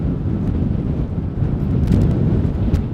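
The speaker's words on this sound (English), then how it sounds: "The wind is still relentlessly blowing" Strong, relentless wind roars across an open outdoor spot at Schiphol Airport in cold weather, a steady low rumble with buffeting gusts that swell louder toward the middle and end.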